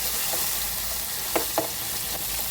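Northern Thai curry paste stir-fries in a pan for sour bamboo shoot curry with pork bones, giving a continuous, even sizzle with two brief scraping stirs near the middle.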